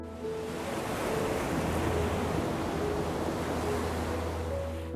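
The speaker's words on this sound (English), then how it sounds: "Listen to the relentless howl of the Atlantic wind tearing across the Moroccan coast." Steady roar of Atlantic wind and crashing surf on the Moroccan coast, a dense continuous rush of noise with low rumble, no voices.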